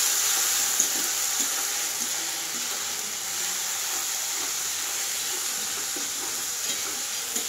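Chicken curry with turmeric and chilli sizzling and frying steadily in a pan while being stirred slowly, a continuous bright hiss with faint scraping taps throughout, no talking.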